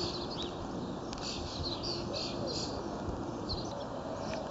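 A thrush chick calls for its parents with short, high chirps repeated at irregular intervals over faint, steady outdoor background noise, somewhat distant and soft.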